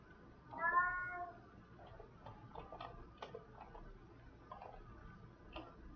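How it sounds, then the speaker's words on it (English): A pet cat lets out a clear rising meow early on, followed by soft ticking taps and small sounds in a quiet indoor room, with faint talk in the background. "Cat wants to say hello."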